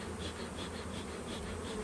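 Honey bees buzz from a package being installed into a hive, a steady close hum with faint pulsing, quiet and alone.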